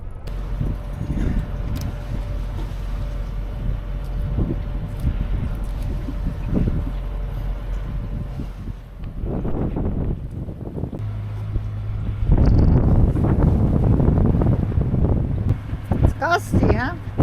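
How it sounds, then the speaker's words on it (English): Gusty cold wind roars across a sailboat in the Lofoten islands, a steady broadband rush with stronger blasts and mic buffeting, while people talk over it. "It's a cold wind funneling through, and we have seen gusts between up to 25 knots."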